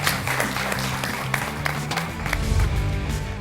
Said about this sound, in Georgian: აპლოდისმენტები ავსვით.